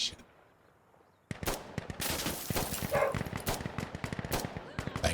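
Rapid, loud bursts of automatic gunfire with dense single shots in an Insurgency: Sandstorm firefight, starting abruptly after a quiet moment and continuing steadily to the end.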